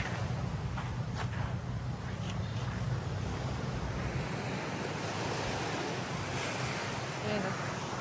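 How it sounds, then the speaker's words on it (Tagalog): Sea waves wash continuously along a beach in a steady, dense roar, with wind buffeting the microphone throughout and no clear breaks between surges. "Nandito kami sa tabing dagat."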